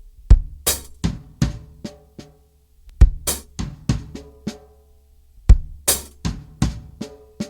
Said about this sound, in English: the second part is between the floor tom, the hi-hat, and the snare drum